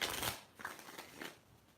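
Tarot cards get shuffled by hand in a few rustling, crackling bursts, close and fairly soft, with no talking over them.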